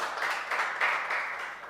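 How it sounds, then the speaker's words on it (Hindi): A crowd at a prize-giving gathering breaks into applause, a dense, continuous wash of clapping heard from a moderate distance for under two seconds. "एक बार जोरदार तालियां।"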